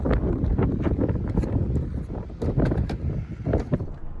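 Strong, gusting wind buffets the microphone in hot, open South Dakota country, a dense continuous roar with surging gusts and no speech.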